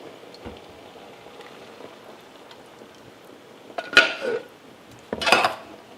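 Canned tomatoes tipped into a simmering pot of currywurst sauce: two short, sharp bursts of splashing and clattering against the pot after a quiet stretch, close and fairly loud, with no talking.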